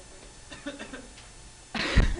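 Faint murmuring, then one loud, close cough bursts out near the end, during a chemistry class.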